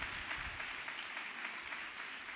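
An audience at a church gathering applauds the assembled clergy, a steady wash of many hands clapping at a fairly low, even level, heard from a distance.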